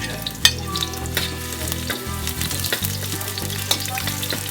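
Onions sautéing with ground pork in a pan for ginisang togue, a steady loud sizzle throughout with scraping stirs and a few sharp utensil knocks against the pan, no voices.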